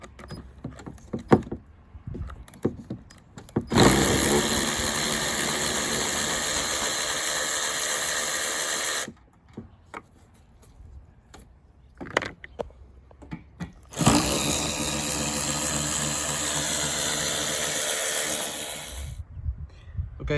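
A Hercules power tool zips out 10mm bolts on a Corvette in two long, loud bursts of whirring, each several seconds long, separated by quieter pauses with small clicks and handling noises.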